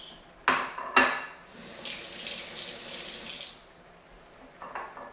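Hands are washed under a running kitchen tap during risotto and scallop cooking, opening with two sharp knocks before a steady water rush that lasts about two seconds, then trails into faint splashes.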